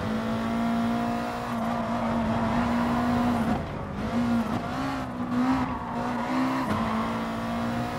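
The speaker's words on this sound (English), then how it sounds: "Tires are complaining again." Racing car tires squealing continuously under a steady engine drone in Gran Turismo Sport during an endurance race, loud and sustained with slight pitch wavers as the car is pushed hard through corners.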